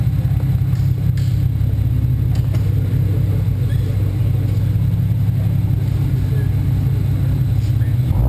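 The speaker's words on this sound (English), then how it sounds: "Hey Ryan, you want to rev the car up once?" Single-turbo BMW 335i with an upgraded front-mount intercooler, aftermarket exhaust and a Precision 6265 turbo, its engine droning at a steady loud idle throughout with deep low rumble and no sharp rev peaks.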